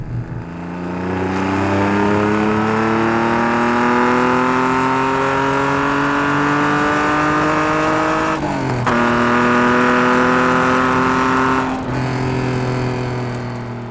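A TVR Sagaris with a fiberglass body and an aluminum dual overhead cam, four-valve-per-cylinder engine pulls hard and close, its note climbing steadily through two quick gear changes with barely a dip in loudness.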